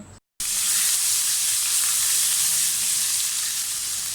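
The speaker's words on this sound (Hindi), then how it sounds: "तकरीबन 4 to 5 टेबल स्पून मैंने ऑयल डाल के इसमें लहसुन डाल दिए" Loud, steady sizzling of garlic frying in about 4 to 5 tablespoons of hot oil, a dense continuous hiss starting after a brief silent gap and holding evenly throughout.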